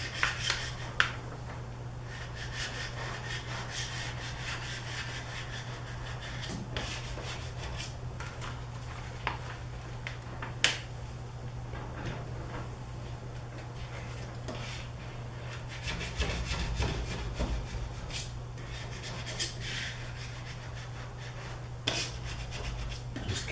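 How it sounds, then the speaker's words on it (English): A hard squeegee rubs and scrapes tint film onto a garage door window, giving steady close friction strokes with occasional sharp squeaks and clicks over a constant low hum. "I can use my hard squeegee again."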